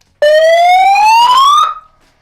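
A handheld siren blasts one loud rising wail of about a second and a half, sweeping steadily upward in pitch, then cuts off sharply and rings away briefly.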